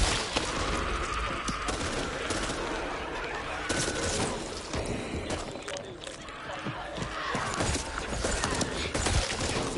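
Rapid gunfire from an endlessly firing weapon in the video game Back 4 Blood on PS5, dense and continuous with sharp bursts throughout, mixed with game noise and a voice talking over it.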